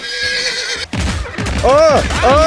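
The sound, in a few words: horse neighing loudly in the VR video game Blade & Sorcery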